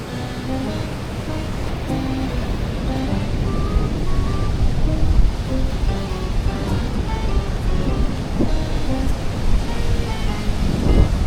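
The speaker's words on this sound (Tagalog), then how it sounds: "first time ako makakita ng gantong kalalakas na alon." Powerful waves of the West Philippine Sea roar and crash continuously during the southwest monsoon, a loud, churning surf with gusts of wind and no talking.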